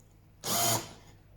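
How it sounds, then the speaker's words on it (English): A power drill bores into wood in the workshop, a single loud burst of about a third of a second that stops abruptly, with a faint fading tail and no talking. "I'm going to drill this."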